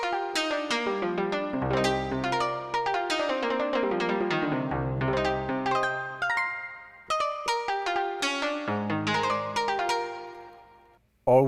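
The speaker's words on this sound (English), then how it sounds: "Then you also get more pluck string sounds like this shamisen from the GX7." Plucked shamisen synth preset from the GX7 in Analog Lab plays a quick, bright melodic run of twangy notes with deep bass notes underneath, ending in a short pause and a final pluck.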